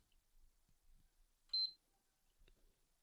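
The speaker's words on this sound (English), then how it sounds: "Beep on, beep off. Very annoying." A single short, high electronic beep from a faulty game console, faint against near silence, followed later by a soft click.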